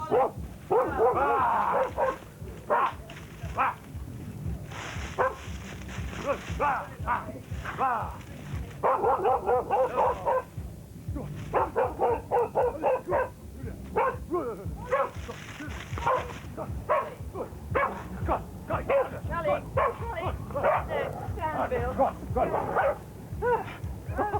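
Dogs bark and yip in short repeated bursts at the edge of a festival site, fairly close, with people talking over and between the barks.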